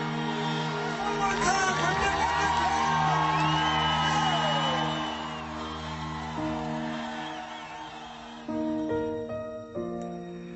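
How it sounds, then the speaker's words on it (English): A crowd at a race finish line whoops and cheers, loud and sustained at first, then fading, with bellows and shouts layered over a steady tone, and announcers' voices underneath. "With the crowd there, all the excitement, the noise, and the announcers announcing"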